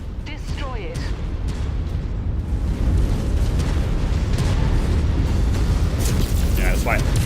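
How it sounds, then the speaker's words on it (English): Artillery cannon explosions in the video game MechWarrior 5 Mercenaries, heavy rumbling booms and blasts rolling continuously under a voice, with some sharper bursts and mechanical whines. "these artillery cannons here. They're just they're just rocking the whole map."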